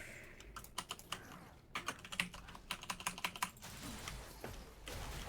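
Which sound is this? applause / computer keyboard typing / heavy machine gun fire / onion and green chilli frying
computer keyboard typing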